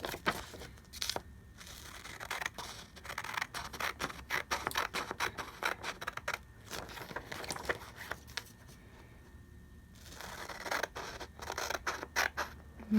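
Scissors cut a large square out of paper for a Christmas junk journal page, with repeated close crisp snips and soft rustling and crinkling of the sheet, broken by short pauses.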